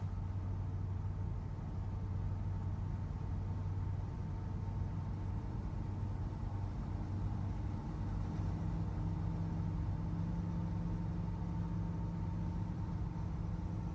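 A 1963 Chevy C10 pickup cruises down the road, heard from inside the cab as a steady, low engine and road drone, unchanging and with no talking.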